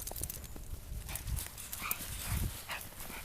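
A dog walks through deep snow during an East Coast blizzard, its soft, irregular padding steps crunching faintly over steady outdoor background noise.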